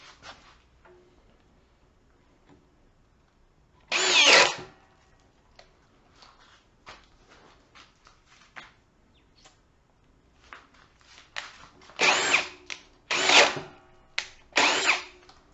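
A refurbished Ridgid drill in drill mode, set to speed 2, boring into wood: short, loud whirring bursts of the motor start and stop irregularly, with one burst early, then several clustered bursts near the end, with quiet scraping and handling noises between.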